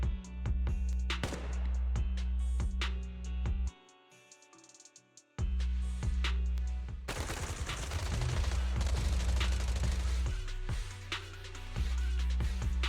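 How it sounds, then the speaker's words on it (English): Rapid bursts of gunfire in the video game Zenless Zone Zero crackle over a steady droning music bed, with a brief lull before the shooting resumes more densely. "Gunfire? This pattern. Suppressive marching fire."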